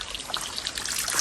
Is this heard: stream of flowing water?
yes